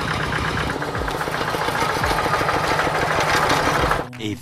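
A hand tractor engine fitted with a CJDW aftermarket exhaust runs at a fast steady idle, loud and close with a rapid knocking rhythm, then cuts back sharply near the end.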